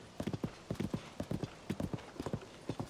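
A horse in the Zelda: Tears of the Kingdom video game gallops with a rapid, rhythmic clip-clop of hooves, clear and close, the beats arriving in quick repeated groups throughout.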